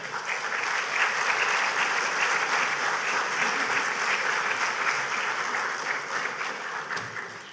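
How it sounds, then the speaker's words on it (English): Audience at Grenada's cultural and creative industries conference applauding a speaker, a sustained dense roar of clapping that holds steady throughout and tapers only slightly at the end. "give him another round of applause for that."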